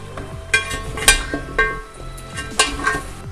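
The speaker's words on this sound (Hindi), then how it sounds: "अब मैं ये दही इसमें ऐड कर दूंगी और इसको मिक्स कर दूंगी" Yogurt goes into a biryani pot and gets mixed, with a low sizzle under several sharp clinks and scrapes of a metal spoon against the pot at uneven intervals.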